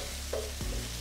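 Tomato sofrito frying in a paella pan, a steady low sizzle with a brief stir or scrape of the spoon, close and continuous with no talk.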